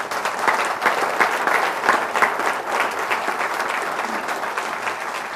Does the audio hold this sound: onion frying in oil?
no